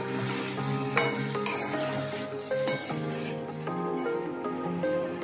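Potato vegetable mixed in a pan gives close, gentle sizzling with soft spoon scrapes and occasional light clinks against the pan, under a bed of background music.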